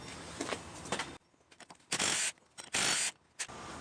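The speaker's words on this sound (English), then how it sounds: "So we'll just go ahead and take off these bolts, and then we'll take off these." A hand ratchet works on bolts of a heat shield bracket on a 2WD GM truck such as a Tahoe or Silverado, giving close mechanical clicks and two loud, bright bursts of rapid ratcheting separated by brief pauses.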